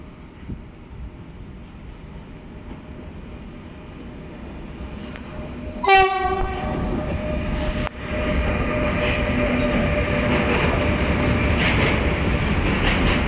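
A passing train gives a steady rumble and rolling rail noise that builds toward the end, with a sharp squeal or horn-like tone partway through.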